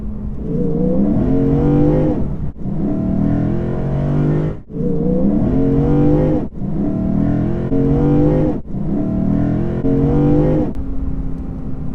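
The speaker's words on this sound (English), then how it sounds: "there's a bit of a growl, but it sounds super fake, especially for this amazing V8" Lexus IS 500 V8 engine heard from inside the cabin, revving up repeatedly in five rising pulls separated by short gear-change dips, a steady droning growl throughout.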